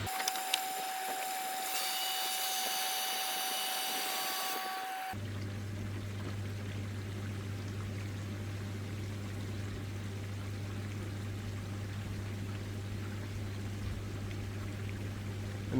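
A pond vacuum draws water up through its hose, a steady loud motor drone with rushing, gurgling suction running continuously after an abrupt start, preceded by brief pouring and trickling.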